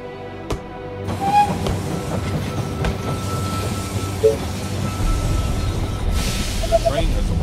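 A train rumbles into a station in the strategy game They Are Billions, a steady low rolling clatter with hiss and a few metallic clicks, heard under a game announcer's voice.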